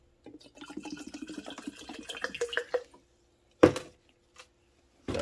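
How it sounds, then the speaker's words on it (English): Snap rings and bolts dropped into a small bath of rust remover liquid, soft scattered clinks and handling sounds followed by two short sharp splashing clatters, all close and fairly quiet. "I'm just going to put these snap rings and bolts in a little bath of some rust remover"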